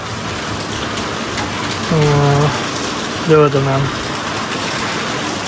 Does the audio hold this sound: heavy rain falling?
yes